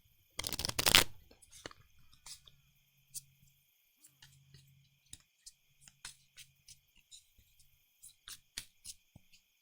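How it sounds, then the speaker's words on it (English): A burst of card riffling as a board game's power-up deck is shuffled, then a series of soft, crisp taps and clicks as cards are squared and handled, quiet and close. "So, time to shuffle this power-up deck."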